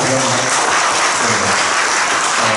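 Steady, dense applause from a seated audience at an academic round-table conference on fascism and populism held in the Korean National Assembly, filling the room continuously with no pause.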